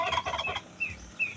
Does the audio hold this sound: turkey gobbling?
yes